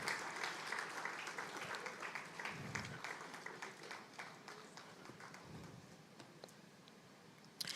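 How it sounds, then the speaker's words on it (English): Audience at a business conference for small and medium enterprises gives a round of applause, steady scattered clapping that stays moderately loud and slowly thins out. "Another round of applause, please."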